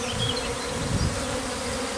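A small swarm of honeybees clustered near their hive fills the air with a dense, continuous buzzing, steady and close, with no voices over it.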